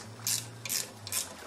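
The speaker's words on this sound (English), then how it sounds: "Removing these bolts." Ratchet wrench loosening bolts on the lower unit gear case of an Evinrude Johnson outboard, heard as three short bursts of clicking spaced about half a second apart over a low steady hum.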